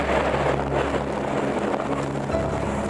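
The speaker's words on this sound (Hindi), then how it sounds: "एयर शो की गहमा गहमी और दूर से आती जेट की गरज।" Jet aircraft roar steadily at the Dubai air show, a loud, broad, unbroken rumble with a low droning hum beneath it and no voices.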